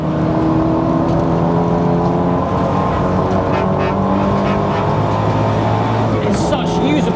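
A 450BHP track-spec Audi A3 8P braking hard and downshifting on a race circuit, its engine droning loud and constant from inside the car, with a commentator talking over it throughout.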